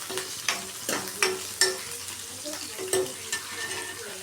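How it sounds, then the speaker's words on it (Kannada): Crushed garlic fries in a pan for a mango dal, with a steady background sizzle punctuated by regular sharp scrapes and knocks of a stirring spoon against the pan, close and fairly loud. "ಈಗ ಚೆನ್ನಾಗಿ ಫ್ರೈ ಮಾಡ್ಕೋಬೇಕು ಇದನ್ನು."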